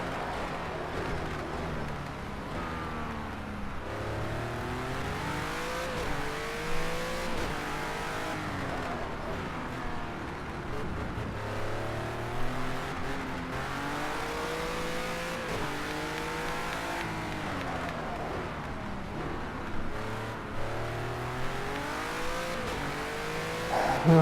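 A race car engine revving hard in a racing video game, its pitch climbing and dropping again and again through gear changes in one long, unbroken drone, with the odd faint tire squeal.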